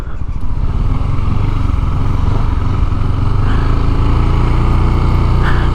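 Zontes 368E maxi scooter engine running steadily on a test ride, a loud, continuous close drone with a slight rise in pitch partway through, no talking.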